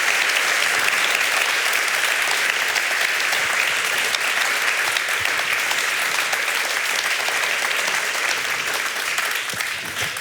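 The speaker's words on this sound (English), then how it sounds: "let's give a big applause and a big thank you for Ekaterina Schulmann" A festival audience gives a steady, full round of applause for Ekaterina Schulmann after her talk, the dense clapping holding at an even level for about ten seconds.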